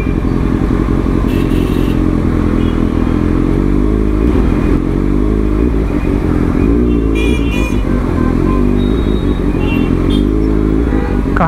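Superbike engine running continuously up close while riding through a traffic jam in Dumka, Jharkhand, a loud steady motorcycle drone with some clatter and faint horns around it.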